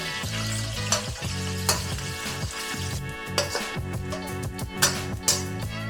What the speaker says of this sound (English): Here we must fry the meat until it is totally dry.